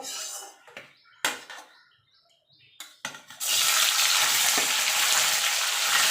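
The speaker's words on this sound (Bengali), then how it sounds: "দেখুন তেলটা গরম হয়ে গেছে এবার আমি পনিরগুলো একটুখানি হালকা করে ভেজে নেব" Paneer pieces hit hot oil in a pan partway through, starting a steady, close, continuous frying hiss that follows a few brief clinks and handling sounds.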